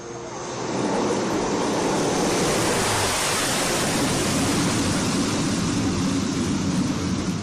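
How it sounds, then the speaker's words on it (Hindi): A military aircraft, a C-130J Super Hercules, touches down on a highway airstrip in Jalore, with a loud steady roar of engines and rushing air that builds and then holds. "इसके बाद वायुसेना के C-130J सुपर हर्क्यूलिस ने भी यहां टचडाउन किया"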